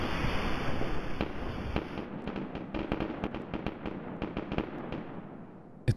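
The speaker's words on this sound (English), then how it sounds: "I decide to blast off my 2 grenades" Grenade explosions in the video game BattleBit Remastered: a steady rumbling wash broken by a string of sharp, crackling blasts and pops, ending in one louder bang.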